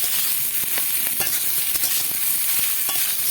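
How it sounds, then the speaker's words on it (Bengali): Ridge gourd with green chillies sizzles loudly in a hot pan, a steady crackling fry broken by scraping stirs and occasional spatula taps on the metal, close and without voices. "এবার ঝিঙেটা আমি ভালো করে ভাজা ভাজা করে নেব"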